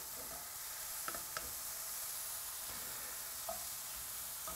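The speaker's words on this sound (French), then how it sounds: "Et on va mettre à feu très fort les champignons." Mushrooms fry in a pan over high heat with a steady, dense sizzle, punctuated by a few faint clicks of stirring, close and continuous with no talk.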